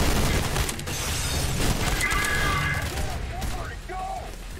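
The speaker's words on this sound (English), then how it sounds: "They're all about throwing grenades." Grenade explosions and gunfire in the video game Trepang2 form a dense, continuous barrage of booms and shots. It stays loud throughout, with faint game voices underneath.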